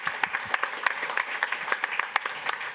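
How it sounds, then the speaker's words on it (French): Audience applause at a French public talk on youth-led AI projects: a steady patter of many hands clapping at moderate distance, with a few sharper claps standing out. "on l'applaudit"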